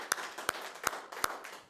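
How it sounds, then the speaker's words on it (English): A small studio audience claps for the guest Roger Hack from Comedians NWA, with sparse, uneven hand claps, a few sharp near ones standing out over a soft patter. "we can applaud for Roger"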